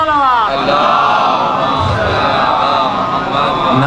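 A large crowd at a Shia religious gathering in Jafri Nagar, Layyah roars back in unison to the slogans Naara-e-Takbeer and Naara-e-Haideri, a loud, sustained wall of massed shouting that swells after a brief opening.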